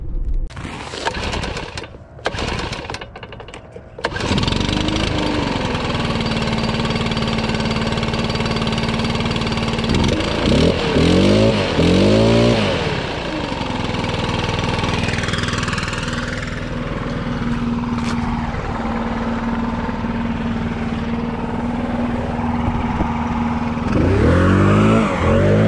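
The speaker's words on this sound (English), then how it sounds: "How cool is it that my dad bought this blower" A STIHL BR800X backpack leaf blower runs outdoors with a loud, steady engine drone that holds for most of the stretch and revs up in short surges partway through and again at the end.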